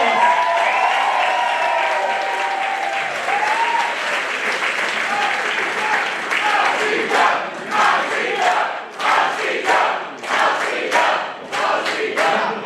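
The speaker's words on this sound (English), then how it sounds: "Can we have a round of applause?" A crowd at a Riot City Wrestling show applauds loudly and continuously, a dense wash of clapping with scattered shouts. It thins toward the end into separate bursts.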